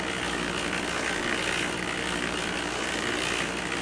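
A homemade low-budget sand muller runs continuously, its wheel and blades mixing sand with oil in a dense, loud, steady mechanical roar with no pauses.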